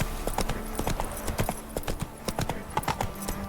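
Hooves of the horse Roach clip-clopping at a steady trot in The Witcher 3 video game, close and rhythmic, with a brief bit of talk in the background.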